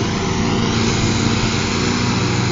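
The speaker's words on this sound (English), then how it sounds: "Mowers are far too loud." Riding lawn mowers run loudly and close by, a steady unbroken engine drone filling the whole stretch with no pauses.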